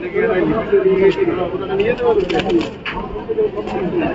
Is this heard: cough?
no